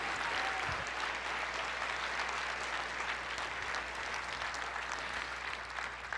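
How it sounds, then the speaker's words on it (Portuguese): A church congregation applauding together, a steady, even wash of clapping that holds throughout at moderate volume, heard slightly distant with no voices standing out. "Uma salva de palmas para o Senhor Jesus."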